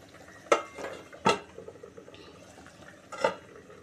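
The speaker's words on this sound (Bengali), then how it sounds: "আপাতত ঢাকা দিয়ে দিলাম" A metal lid clinks onto a pot of simmering parshe fish curry with potatoes, three short bright clatters spaced apart over a soft background bubble in a home kitchen.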